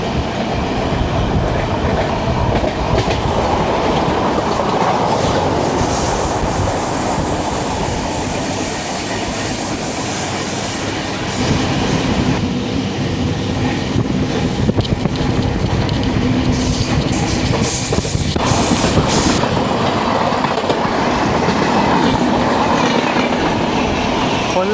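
The Kollam Tirupati Express passes close by at speed, a loud continuous roar of rolling coaches with rhythmic clickety-clack and occasional wheel squeal sustained throughout.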